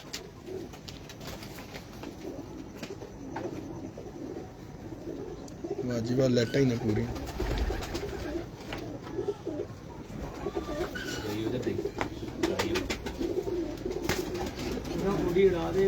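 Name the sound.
Salara pigeons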